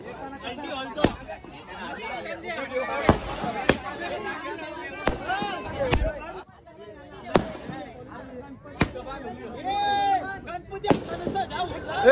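Firecrackers burst in sharp, irregular bangs at a Ganesh idol immersion, some close and loud, amid crowd chatter and voices talking in the background.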